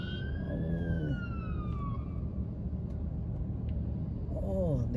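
Police car sirens wail and sweep down in pitch as the cars pass, over steady traffic rumble, with another siren rising near the end, in Saudi Arabia.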